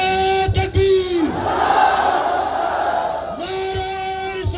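A large political rally crowd roars a slogan in unison in response to a leader's call, the mass chant swelling loud and full between amplified shouts from a speaker at the start and end.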